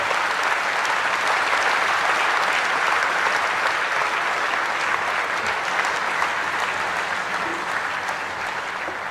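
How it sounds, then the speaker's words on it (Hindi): A large audience at the commissioning of India's first indigenous aircraft carrier, INS Vikrant, breaks into dense, sustained applause welcoming the Prime Minister, steady and loud before tapering slightly at the end. "जोरदार, दमदार, जानदार तालियों के साथ स्वागत कीजिए भारत के प्रधानमंत्री"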